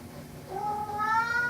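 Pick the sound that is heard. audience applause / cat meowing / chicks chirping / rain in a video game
cat meowing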